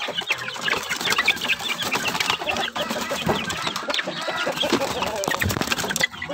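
Chickens and young chicks of various breeds on a farm, busy with overlapping clucks and peeping, close and continuous, with a voice murmuring now and then.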